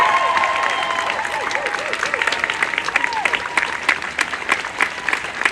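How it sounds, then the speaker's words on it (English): A crowd applauds at a Black Lives Matter protest, sustained clapping and some cheering outdoors, with a voice briefly heard over the applause. "Let's just give them another round of applause."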